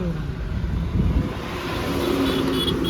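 A car drives along the road on its way to a showroom for a service, with a steady low engine and road rumble heard from inside and no one talking.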